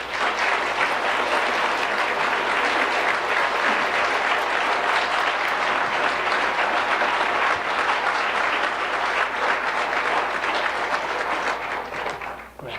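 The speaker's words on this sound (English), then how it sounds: "I'd like to invite to the stage and to accept your applause" Sustained applause from a large audience at a community college excellence award ceremony as the college president comes to the stage, a thick, even wash of clapping held at steady volume before easing off at the very end.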